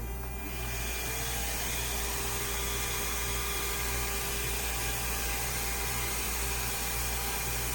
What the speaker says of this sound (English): Time to start the vacuum.